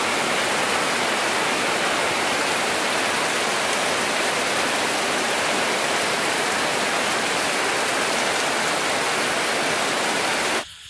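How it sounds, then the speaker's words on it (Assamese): Heavy rain pours down steadily, mixed with the broad roar of rushing floodwater, loud and continuous throughout before cutting off abruptly at the very end. "এতিয়া বৰষুণটো জানিবা অকমান কমিলে আৰু ইমানো কমা নাই পানী দেখিছ নাই কেনেকা ভৰ্তি হৈ গ'ল"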